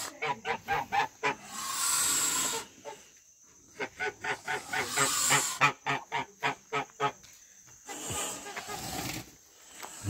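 Geese on a goose and duck farm honk repeatedly in loud, rhythmic bursts, broken by harsh hissing as they defend their goslings up close.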